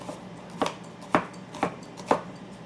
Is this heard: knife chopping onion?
yes